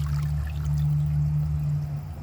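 A 2022 American Standard Homestead VorMax toilet tank refills through a slow fill valve. The water rushes and streams steadily at close range over a low, constant hum, with no talk.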